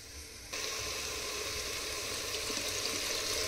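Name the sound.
rice and khichdi mixture roasting in a pan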